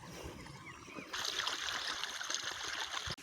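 Irrigation water runs into an onion field in the morning, a soft steady gurgling flow that swells slightly louder partway through, heard outdoors alone without voices.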